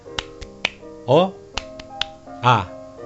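A few sharp claps or snaps land in an uneven rhythm, interleaved with short vocal chanting bursts.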